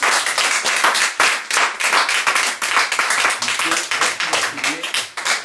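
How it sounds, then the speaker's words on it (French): A group of people clap steadily and continuously at close range in congratulation, the dense patter running the whole time with voices mixed in among the claps. "Nous applaudissons"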